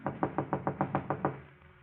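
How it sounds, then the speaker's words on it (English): Eight quick, even knocks on an apartment door as a radio drama sound effect, a close, hollow rapping in a steady rhythm with no voices. "a knock at Gloria's apartment door"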